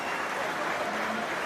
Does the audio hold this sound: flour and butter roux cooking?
no